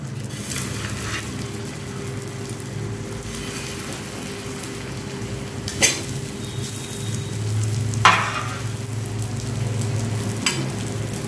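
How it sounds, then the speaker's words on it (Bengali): Evening snacks frying in hot oil over low heat, a steady close sizzle and bubbling with a few sharp pops and clatters as pieces go in or are stirred, no talk over it. "তেলটা গরম হয়ে গেছে, সিম আঁচে রেখে দিয়েছি। একে একে এগুলো ছেড়ে দিচ্ছি।"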